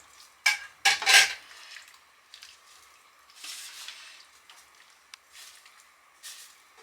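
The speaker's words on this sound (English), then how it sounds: "give it another little stir" A spoon scrapes and clinks through a pan of sauce seasoned with crushed red pepper in a trailer kitchen. A few sharp, close metallic knocks come first, then softer intermittent stirring sounds under a faint background.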